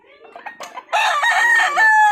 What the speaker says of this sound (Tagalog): Mga manok ni Junel